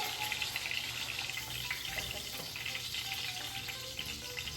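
Breaded chicken milanese cutlets frying in hot oil, a steady close crackling sizzle that holds throughout with no talking.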